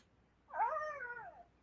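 A house cat lets out one drawn-out, wavering howl-like meow, loud and close in a quiet room, rising then trailing off over about a second.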